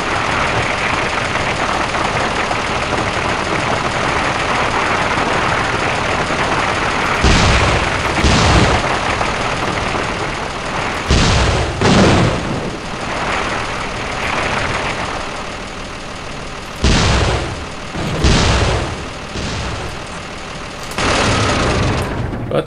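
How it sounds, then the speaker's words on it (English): Giant tank shells fire as loud booms in Gunman Chronicles, each blast breaking over a steady rumbling engine idle, arriving in irregular clusters across the stretch with no talk. "the satisfaction of being able to lob giant shells of death at pretty much anything you want to"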